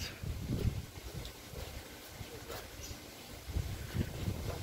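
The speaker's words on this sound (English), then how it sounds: "Whoa, don't blow away, guys! That's a big gust." Blustery wind buffets the microphone in low rumbling bursts, strongest at the start and again near the end, with faint rustling in between.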